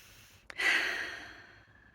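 A single deep, slow breath, a soft airy exhale that swells after a brief click and then gradually fades, heard close and alone in a quiet room.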